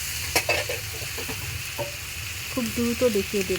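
Prawns sizzle and fry in a pan, a steady close crackle under a woman's brief speech, with a few clinks of a spatula.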